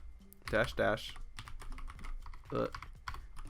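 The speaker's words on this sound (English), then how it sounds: "So right here we're just going to type in py space -3" Command being typed on a computer keyboard into a terminal while setting up Python, a close run of quick clicking keystrokes with some louder bursts, and a voice speaks over parts of it.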